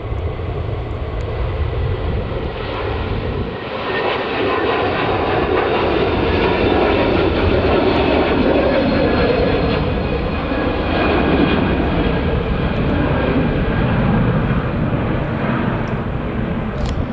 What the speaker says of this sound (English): taking off now, we've got a Turkish Airlines Airbus A321neo going to Istanbul